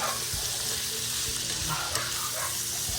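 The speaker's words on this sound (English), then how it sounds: "I will saute this until it is golden brown." Pork sautéing in a pan for pork sinigang with tomatoes, a steady close hiss of frying with soft popping and occasional stirring knocks, no one talking.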